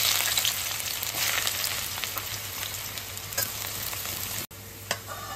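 Thinly sliced onions deep fry in oil in a fry pan, a loud, close, continuous sizzle and crackle with occasional stirring scrapes and a momentary cut near the end.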